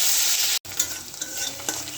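Ground onion paste sizzles in a hot pan while a utensil stirs it, with close scraping and soft sputters over a steady hiss that briefly drops out for a moment before resuming.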